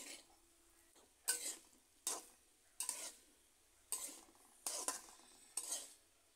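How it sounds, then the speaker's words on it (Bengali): A spatula stirs fried bitter gourd with fresh coriander leaves in a pan, making about seven evenly spaced scraping strokes over a faint, quiet background. "এবার কাঁচা ধনিয়া পাতার সাথে করলা ভাজাগুলো আমি মিশিয়ে নিচ্ছি।"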